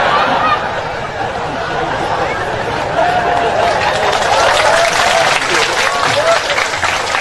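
Audience applause at a lively, humorous Islamic sermon gathering led by a Javanese preacher: loud, continuous clapping from a large crowd, mixed with murmuring chatter and voices throughout.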